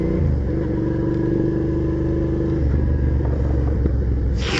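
A motorcycle engine hums steadily and close while riding through a roundabout, its tone dropping and shifting as it moves along, and no one talks over it.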